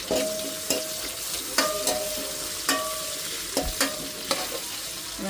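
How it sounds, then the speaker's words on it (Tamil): Fenugreek seeds and green chillies tempering in hot oil, a steady soft sizzle with several sharp utensil clinks and stirring scrapes scattered throughout, close and moderately quiet with no voices. "வெந்தயம் போடுவோம் எண்ணெய் போட்டு தாளிச்சு விடுவோம் இந்த பச்சை மிளகா"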